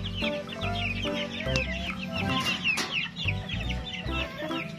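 Chickens, including Orpingtons and Japanese Bantams, clucking continuously nearby, several birds chattering and squawking over one another at a steady, busy level.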